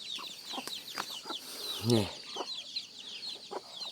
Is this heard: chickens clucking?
yes